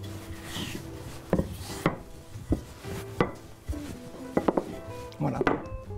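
Puff pastry dough being rolled out with a rolling pin on a work surface, a series of irregular thumps and rubbing rolls close by, with people talking between them.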